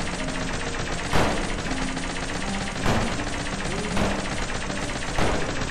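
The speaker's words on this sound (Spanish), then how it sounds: "Yo no paro de disparar, a mí me da igual todo." Gunfire in a video game: a dense, continuous rattle of rapid shots fills the clip, with heavier bursts recurring roughly every second or so, loud and unbroken, with no talk over it.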